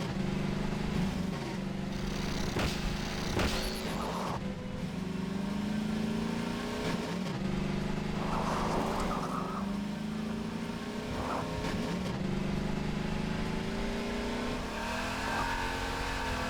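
A V8-style engine sound on a slow-moving buggy in the video game Half-Life 2: MMod revs and drones steadily at close range, rising and falling in pitch with occasional bursts of acceleration and faint tire noise.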